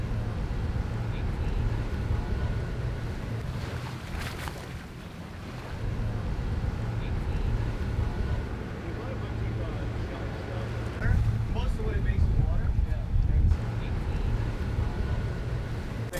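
A fishing boat trolls at 4 to 6 knots off the Texas coast, its engine droning as a steady low hum under wind and water noise, while a person speaks over it.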